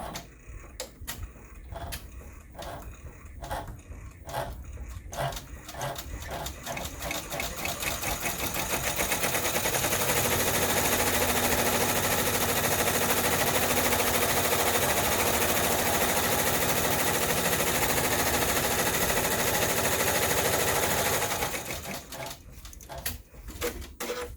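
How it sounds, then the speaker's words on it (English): An embroidery machine runs a placement stitch for the first appliqué piece of an in-the-hoop top zip bag, starting with sparse rapid ticking bursts that build into a steady, dense mechanical whir for about ten seconds before stopping near the end. "we're going to run placement stitch for our first applique piece"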